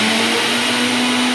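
A kitchen mixer grinder runs with a steady, loud motor whine and a constant hum, unbroken through the whole short stretch.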